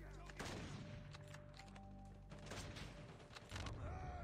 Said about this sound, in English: Being shot in the back?